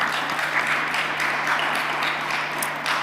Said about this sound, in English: You're getting a round of applause, Valentina.